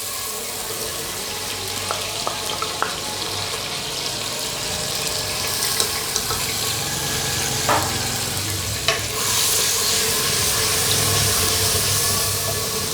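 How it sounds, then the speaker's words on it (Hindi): Garlic ginger paste sizzles steadily in hot oil in a handi for chicken makhani, a close, continuous frying hiss punctuated by occasional spoon clicks against the pan, with no talking. "अब इसी ऑयल में मैं मसाले के लिए सबसे पहले डालूँगी मैं लहसुन अदरक का पेस्ट।"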